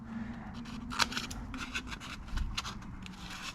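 Scissors snip a repair template for the rusty sills of a boosted Lexus IS 200, a close series of crisp cuts and soft paper scraping in an irregular rhythm over low background hum, with no talk.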